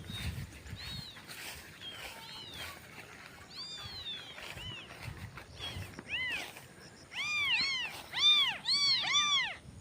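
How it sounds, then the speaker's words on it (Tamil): Tiny newborn kittens, eyes just opened, left in bushes, mewing in thin high cries that grow louder and more rapid toward the end, with a faint background hum. "இந்த புதருக்குள்ளாடி 3 குட்டி பூனையை விட்டுட்டு போயிருக்காரு"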